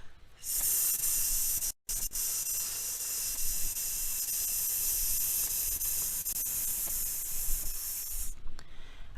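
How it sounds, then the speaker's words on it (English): Steady, even breath hiss held for a vocal exercise, a continuous airy rush at constant loudness for about eight seconds, broken by one brief pause near the start. "So you make sure that the hiss is consistent, that it is not louder at the beginning than at the end."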